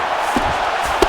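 Arena crowd noise from a simulated UFC 5 fight between Bruce Lee and Conor McGregor, a steady broad roar of spectators with two brief swells of reaction, no commentary over it.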